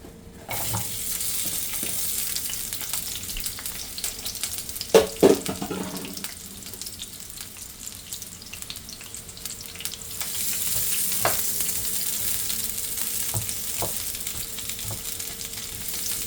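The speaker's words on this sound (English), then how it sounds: "we finna go ahead and throw our onions on in there." Onions hit hot oil in a pan for a green bean, sausage and potato casserole, a steady sizzle broken by a couple of sharp clatters near the middle, then a louder frying hiss building toward the end.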